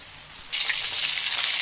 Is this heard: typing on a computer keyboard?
no